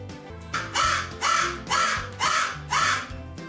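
A raven caws four times, loud and harsh, in an even rhythm close by with nothing else heard.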